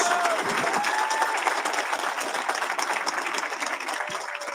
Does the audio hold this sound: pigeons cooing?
no